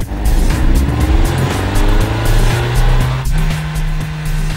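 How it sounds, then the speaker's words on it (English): Japanese import car with a newly fitted exhaust revving for a decibel test, loud close engine revs rising and falling in pitch repeatedly, with a deep exhaust rumble and no talking. "With the exhaust all fitted up, we're going to do a quick decibel test to make sure we're legal."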